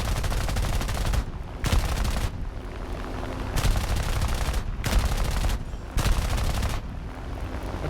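Enemy machine-gun fire in War Thunder comes in several sustained bursts separated by brief pauses, loud and close over a constant engine drone, with no talk.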